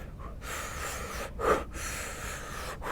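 A runner demonstrates rhythmic breathing for threshold running, with a few sharp nasal inhales and exhales at close range and quiet gaps between them.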